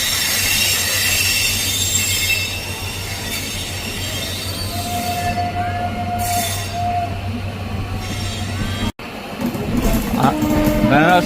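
Two Amrit Bharat Express trains, Banaras–Sealdah and another, run side by side out of a station: a loud continuous rumble of rolling stock with wheel squeal and rail clatter, a sharp dropout near the end, then closer heavy wheel noise.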